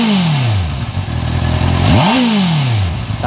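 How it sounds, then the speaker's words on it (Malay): A 2025 Honda CBR650R E-Clutch motorcycle exhaust revs up sharply and then drops back, a loud, close engine roar climbing and falling in pitch. "Ni pula bunyi dari bahagian exhaust ataupun muffler"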